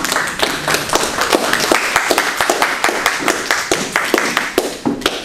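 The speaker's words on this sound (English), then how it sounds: "Can y'all help me welcome Essie with a round of applause" An audience gives a round of applause in a room, a steady burst of close, dense hand clapping lasting several seconds with irregular individual claps standing out.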